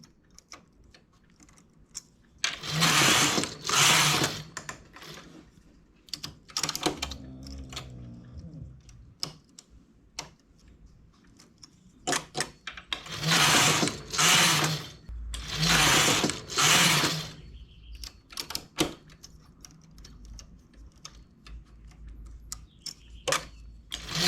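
A domestic knitting machine's carriage is pushed across the needle bed in several loud rattling passes for a lace stitch made with a large transfer tool, with quieter clicks and taps of needles between passes.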